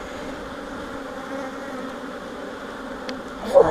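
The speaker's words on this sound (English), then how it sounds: "this hive is just completely full of bees" A dense, steady drone of honey bees fills an opened, completely full hive during an inspection, loud and close throughout, with a brief louder knock or movement near the end.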